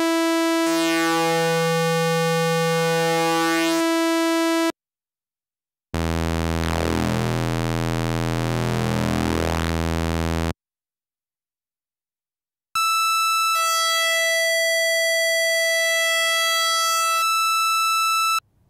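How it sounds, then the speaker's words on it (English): Korg Monologue synthesizer oscillator playing a sawtooth wave, three sustained harmonic-rich tones at different pitches separated by brief silences, bright and buzzy, with pitch and timbre changing. "In sawtooth, that sounds like this."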